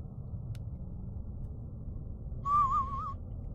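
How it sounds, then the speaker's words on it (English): A person whistles a brief wavering tune of about two-thirds of a second over a low steady background hum during a Roblox Lumber Tycoon 2 VR session, faint and close. "Sorry, I won't whistle."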